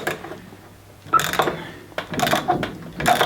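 Cheap ratchet wrench turning a bolt on a Mitsubishi L200 trayback in a garage, with several short bursts of close mechanical clicking and rasping separated by brief pauses.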